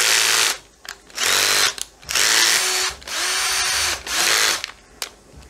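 A cordless screwdriver drill whirs in five loud, steady bursts of about half a second to a second each, separated by short pauses, while fitting a television mount bracket to a TV set, with no voices.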